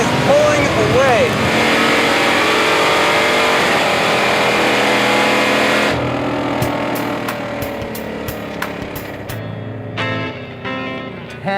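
A 1968 Dodge Charger fitted with a 707 hp Hellcat engine accelerates hard, its engine note rising in pitch under loud wind and cabin noise before the roar eases off, with voices talking over it.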